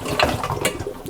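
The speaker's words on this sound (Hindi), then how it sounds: "अब इसका मैं अब पानी निकालूंगी" Cooking water is poured off mutton just pressure-cooked for karahi, a brief gurgling, splashing pour heard up close in a kitchen, with no talk.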